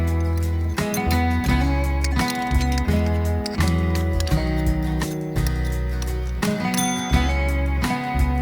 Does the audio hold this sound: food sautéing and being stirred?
no